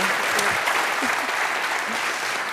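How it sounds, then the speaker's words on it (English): A warm round of applause from a conference audience after a panel conversation, a dense, steady clatter of many hands at close range with faint voices mixed in. "Let's give them a warm round of applause."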